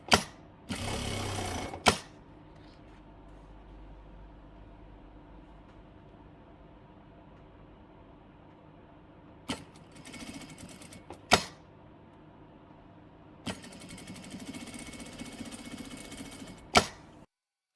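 A sewing machine stitches elastic onto the top edge of a skirt waist in three short, close bursts of rapid mechanical whirring, separated by quiet pauses with no talking.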